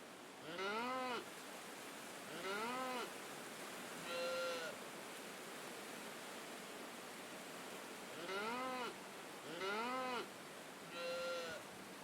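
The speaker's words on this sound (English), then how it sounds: "give all of the animals helium and that's what they sound like in this world" Odd Realm video game sheep bleating in comical high-pitched voices, six short rising calls spaced a second or two apart over a faint hiss, with no talking.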